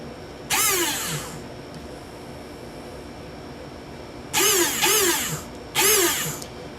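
An airsoft gun's electric motor, on a Spartan Delta rifle with stripped gears, whines up and winds down in one burst and then several quick bursts, spinning loudly and close in a quiet room.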